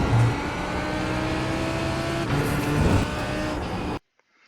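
Lamborghini Huracan GT3 engine accelerating around Virginia International Raceway in iRacing, a loud steady high-revving drone with rising pitch, a brief gear-change dip, then sudden silence at the end.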